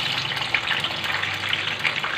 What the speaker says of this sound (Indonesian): Terlebih dahulu kita goreng tempenya.